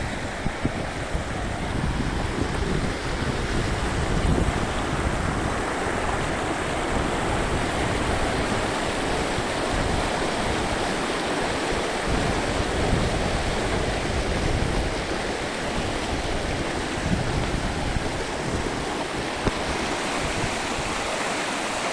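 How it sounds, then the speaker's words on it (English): Clean water flows steadily, a dense, loud broadband rush that holds unbroken from start to finish with no voices. "Pretty interesting water is flowing."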